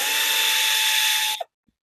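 A power drill runs in bolts during a front axle replacement, whirring steadily at high pitch for over a second, then winding down and stopping, followed by a faint click.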